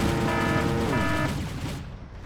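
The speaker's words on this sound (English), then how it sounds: "Strela's firing their missiles." Strela anti-aircraft missiles launching in the war strategy game Wargame: European Escalation, a loud rushing roar with a rising tone that fades away within about two seconds.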